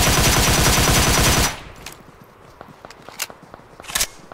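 A loud burst of rapid automatic gunfire opens a crowded battle royale game match, then cuts off. Scattered footsteps and a few sharp cracks follow, one louder pop near the end.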